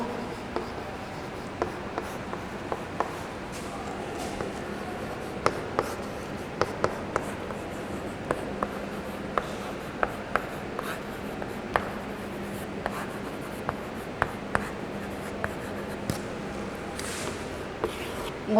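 Pen or chalk writing during a Hindi literature lesson in a classroom, a steady scratchy stroking with small taps spread across the whole stretch, faint and continuous with no talk over it.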